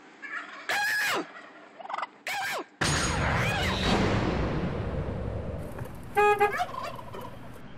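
Wild turkeys gobble in loud, close bursts beside cars on a road, several rapid warbling calls early on, then a steady rumbling noise runs underneath and another sharp gobble cuts in near the end.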